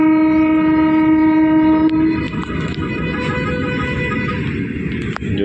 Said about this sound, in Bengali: এই হচ্ছে মাল ট্রেন।